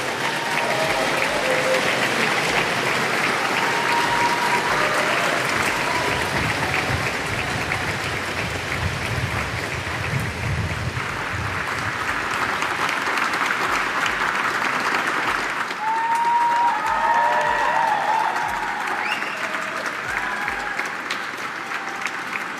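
Sustained applause from a large crowd in the UK Parliament chamber, dense and loud, with many hands clapping at once and continuing steadily throughout, rising slightly near the end.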